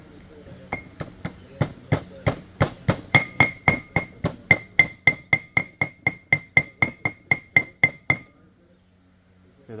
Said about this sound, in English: I'm going to take this hammer that's way too big. I'm going to bash this seal in.